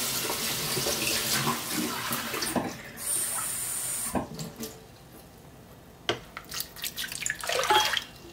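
Tap water runs into a sink, then cuts off, followed by a few splashes and clatters nearby.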